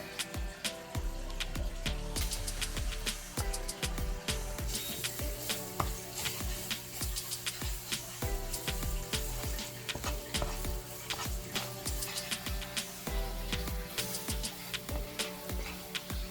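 Garlic sizzles and fries steadily in a hot pan during a coconut chickpea curry, a dense continuous crackle with scattered sharper pops throughout, close and alone with no talking.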